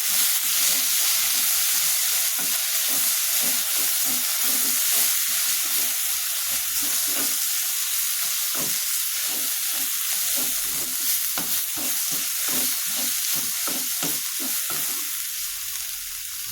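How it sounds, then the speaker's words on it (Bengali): Leafy greens tossed into a pan with already fried garlic and onion sizzle loudly and continuously, while a spatula stirs them in quick, regular strokes that keep a steady rhythm throughout. "অলরেডি আমি শাকগুলো দিয়ে দিচ্ছি ভাজা। আমার রসুন পেঁয়াজ ভাজা হয়ে গেছে,"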